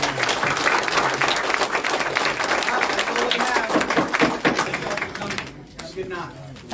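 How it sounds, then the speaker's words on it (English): A crowd gives sustained, fairly loud applause for political candidates at a meeting, dense clapping that tapers off near the end with some voices mixed in. "Let's give all our candidates a round of applause."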